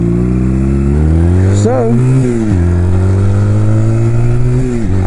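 A Honda Rebel 250 motorcycle idles forward at walking pace with the clutch fully out and no throttle, its steady low engine drone running continuously close by while someone talks over it.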